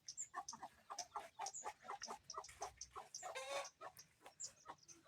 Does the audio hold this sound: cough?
no